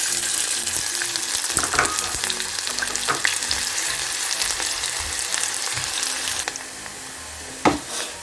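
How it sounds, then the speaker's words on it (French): Onions and dried shrimp frying in a little oil in a small pot, a steady dense sizzle with occasional stirring scrapes and clinks, close and loud before easing off near the end. "je vais faire revenir avec un peu d'huile mes oignons et les crevettes séchées"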